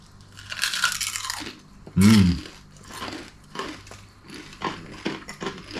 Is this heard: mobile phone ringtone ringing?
no